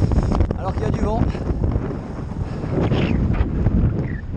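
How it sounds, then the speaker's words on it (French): Wind buffets the microphone during an outdoor group bike ride, a loud, rough rumble throughout with someone talking over it. "Alors qu'il y a du vent."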